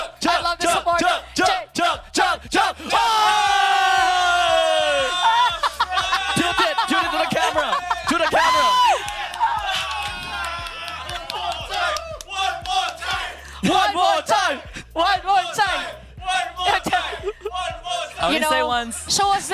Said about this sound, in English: The crowd is raving